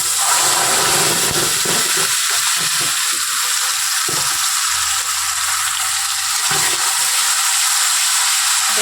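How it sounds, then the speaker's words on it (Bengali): A spice paste of ginger, garlic, onion and tomato with cumin, bay leaf and whole garam masala fries in a pan, giving a steady, close sizzling hiss with no talk. "এবার মশলাটা কষানো করছি"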